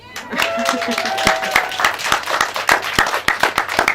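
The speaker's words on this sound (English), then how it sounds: "Big round of applause." Audience applause at a spiritual gathering, a dense patter of claps swelling and then continuing steadily, with a voice briefly heard near the start.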